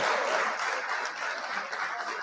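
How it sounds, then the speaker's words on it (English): A steady round of applause fills the space, dense broadband clapping at an even loudness throughout, with no speech over it. "let me hit you with a round of applause"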